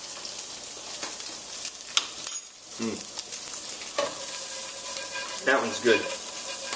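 A trout fillet pan-seared in a frying pan sizzles steadily and loudly, with sharp pops and crackles scattered throughout. A brief spoken remark sits over the frying.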